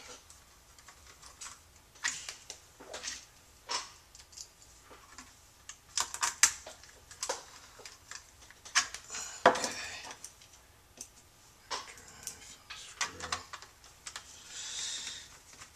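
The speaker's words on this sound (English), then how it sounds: "I'm going to put these two little screws back." Two small screws go back into an HP DV6700 laptop, heard as scattered light clicks, taps and metallic ticks of a screwdriver and parts, close up with quiet pauses between.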